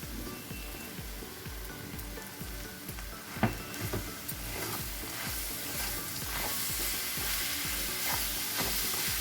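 Olives fry in a pan for a sweet-sour olive pickle as jaggery is added and stirred in, giving a close, continuous sizzle with rhythmic scraping strokes of the stirring spoon and no one talking.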